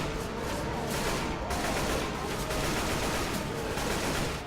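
Rapid, dense automatic gunfire rattles without pause as players fire on the Tank in Left 4 Dead, a loud continuous volley with no talking.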